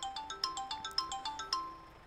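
A phone in Euro Truck Simulator 2 rings with a fast, evenly spaced run of bright electronic ringtone pulses, clear and alone for about two seconds.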